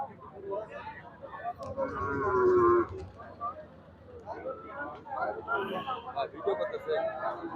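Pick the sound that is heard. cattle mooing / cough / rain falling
cattle mooing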